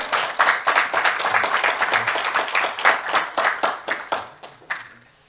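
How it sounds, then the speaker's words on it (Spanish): Applause from a small audience at a round-table panel on public procurement law, several people clapping together fairly loudly for about five seconds before it thins out into a few last claps. "Un aplauso, por favor."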